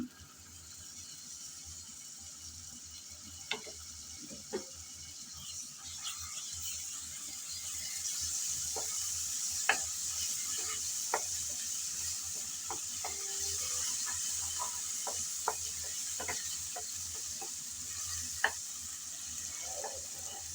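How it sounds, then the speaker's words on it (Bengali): Ginger-garlic paste frying with onions for a small sea fish dish, a soft low sizzle under scattered sharp clicks and scrapes of stirring, close and quiet, no one speaking. "আবারও আমি আদা আর রসুন পেঁয়াজের সাথে নেড়ে চেড়ে কিছুক্ষণ ভেজে নিয়েছি"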